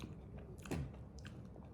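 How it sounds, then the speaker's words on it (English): Crunchy Little Debbie fudge ice cream bitten and chewed close to the mic, a few soft crunching bites at a steady pace with no talking. "every bite has a pleasant crunch"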